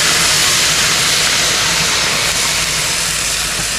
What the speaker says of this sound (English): now I'm going to add a little bit of water. I'm going to have to steam it all.